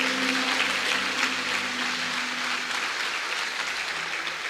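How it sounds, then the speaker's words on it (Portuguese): Church congregation applauding during a sermon, a steady, moderately loud wash of clapping that thins slightly toward the end, with a faint voice and tone fading in the first half. "Dê um aplauso"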